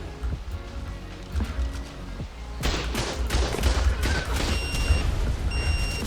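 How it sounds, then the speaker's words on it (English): A turret being blown up in ARK, with a rapid burst of explosive blasts and crackling impacts that grows louder and denser after a quieter rumbling start. "I went to go blow up the turret"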